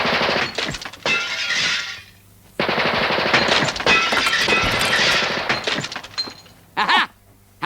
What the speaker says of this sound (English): that was a machine gun, a real machine gun